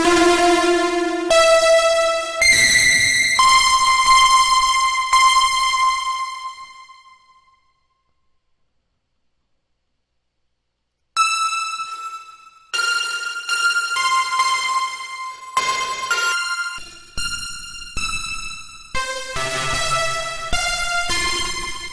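A harsh synth lead soaked in reverb and heavy distortion plays a loud, bright series of held notes, then falls silent for a few seconds before returning with choppier, rhythmic stabs.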